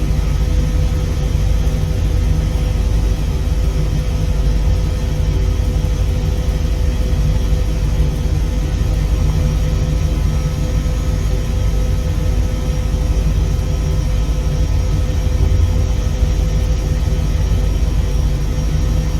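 An Airbus H160 helicopter in Microsoft Flight Simulator VR during a taxi and training flight gives a constant loud turbine whine over a deep rotor rumble, steady and unbroken throughout, with no talking.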